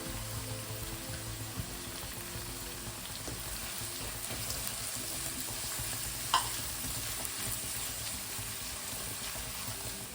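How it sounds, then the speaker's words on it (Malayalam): Ginger and garlic sauté in a pan for tomato rice, a soft, low, continuous frying hiss heard close, with one brief clink partway through and no speech. "അത് ചേർത്ത് നന്നായിട്ടൊന്ന് വഴറ്റിയെടുക്കാം."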